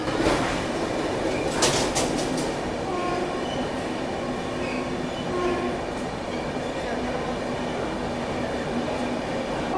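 Trivandrum Rajdhani train arriving at Surat station at night: a steady rumble of rolling coaches with rail clatter and a brief sharp squeal, heard from inside the carriage.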